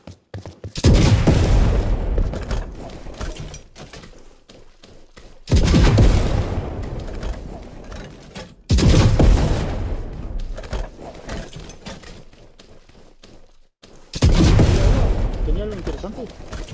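A player firing a gun during a raid in an online survival game: several loud bursts of gunfire in separate volleys with ringing tails and gaps between them, mixed with other game sounds and voices.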